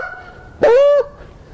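A human voice imitates a goose honk, one loud, short nasal honk that rises and falls, alone and close.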